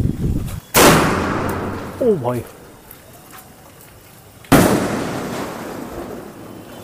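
A big sky shot marble firework cracker bursts with a sharp loud blast, a short whistling rise follows, then a second loud explosive crack a few seconds later; someone shouts briefly before the first bang.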